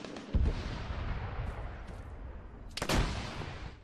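Distant gunfire in Arma 3: a few muffled far-off shots and dull thuds spaced over a few seconds, with a louder crack near the end over faint background noise.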